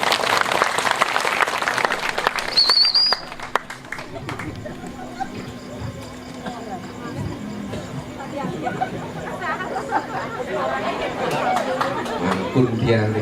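Applause and lively crowd chatter rise from an outdoor audience at a Balinese temple performance in the outer courtyard of Pura Dalem Tegal, with clapping bursts mixed among voices.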